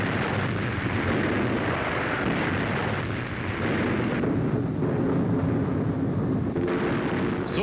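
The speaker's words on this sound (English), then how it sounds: "Sailing above and through Nazi anti-aircraft fire, the bombers shoot down Messerschmitts that challenge their advance." Anti-aircraft fire and explosions from a 1942 WWII aviation newsreel as bombers fly through Nazi flak: dense, continuous rumbling blasts and booms that fill the whole stretch loudly.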